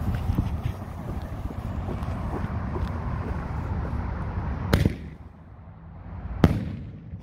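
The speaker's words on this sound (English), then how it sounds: "We're gonna hit this Dragon Artillery show." Dragon Artillery fireworks shells going off outdoors, a rumbling fusillade of distant bursts followed by two sharp, loud cracks, with wind in the background.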